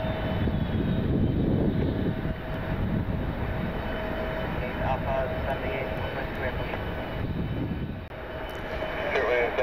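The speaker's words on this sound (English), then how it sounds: "Another Spirit crossing the runway here." A Spirit Airlines airplane crossing the runway at Detroit Metro Airport, a loud steady engine roar that lasts throughout and dips briefly near the end, with a voice talking over it.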